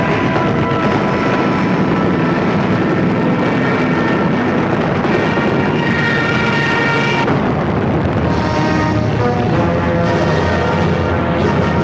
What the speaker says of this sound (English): Still they come. Everybody grabs a rifle. The planes are so low, one can shoot at them from point-blank range.